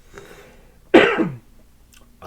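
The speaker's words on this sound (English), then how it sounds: "That was a cough" A single harsh cough, close and loud, breaks a quiet moment, followed by silence.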